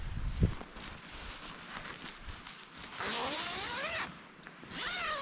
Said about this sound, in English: Let's get the zipper.